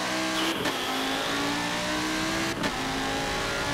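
A race car engine in Forza Motorsport 7 roars and accelerates steadily, loud and close, with two brief gear-shift dips in the pitch.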